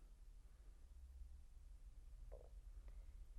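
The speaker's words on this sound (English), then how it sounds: "That was my stomach rumbling." A faint, low gurgling stomach rumble with a brief squelchy burst near the end, heard alone in a quiet room.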